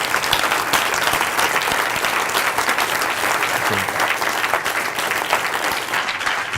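A seated audience at a talk in an aquarium hall gives sustained, loud applause, an even continuous patter of many hands throughout.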